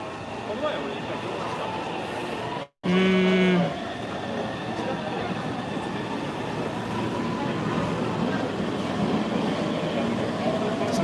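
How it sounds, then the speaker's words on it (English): Inside Nagoya Station, a train rumbles with a broad, continuous roar that briefly cuts out, then a short two-tone chime or horn sounds before the steady rolling noise resumes for several seconds. "I hope that's not my train."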